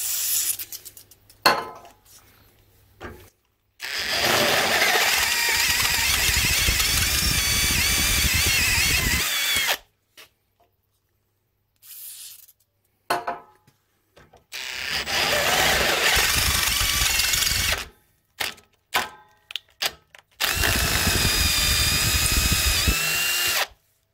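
Power drill boring a 9mm hole into a steel handbrake part for an off-road trailer, heard as three long sustained whirring bursts separated by short pauses and clinks.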